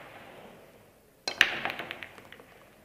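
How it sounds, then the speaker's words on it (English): A pool break shot at a professional tournament semi-final: one sharp cue strike followed by a quick cascade of clacking balls scattering across the table, fading out over about a second. "Denis Grabe to break off rack number 13"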